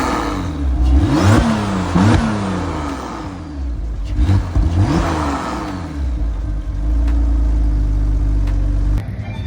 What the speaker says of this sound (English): the cool thing about the new Turbo Study is that it actually sounds like a water-cooled turbo